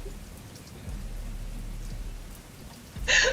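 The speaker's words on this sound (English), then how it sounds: "I wanted to be out of this rain quickly anyway" Rain falls in a dark video game scene, a soft, constant patter and hiss that swells into a brighter, louder burst near the end.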